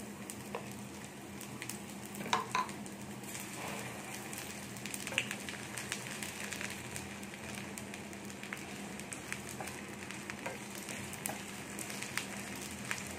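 Garlic and a dried chili sizzle in hot mustard oil, a steady, fairly quiet frying hiss with occasional small pops and crackles running on its own throughout.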